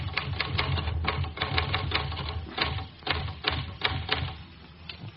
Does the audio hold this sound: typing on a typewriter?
yes